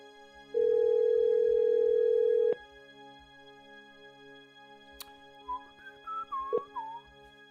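A phone line connecting to a call: a single steady tone lasts about two seconds, then cuts off with a click. After a pause, a faint voice comes through over the line.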